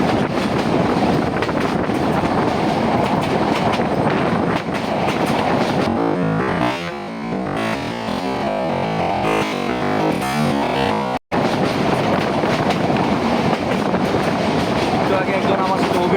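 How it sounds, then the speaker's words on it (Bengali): The Tista Express, heard from inside an AC chair coach speeding toward Dewanganj, clatters along the rails in a loud, continuous rattling rumble, with a momentary dropout near the end. "ঝকর ঝকর শব্দ করতে কিন্তু ট্রেন ছুটে চলছে দেওয়ানগঞ্জের দিকে"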